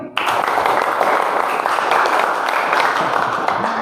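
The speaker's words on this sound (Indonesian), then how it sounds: "Kurang semangat, tepuk tangan lagi." Classroom applause from students in an automotive engineering class, a dense sustained burst of many hands clapping close by, filling the room steadily from start to finish.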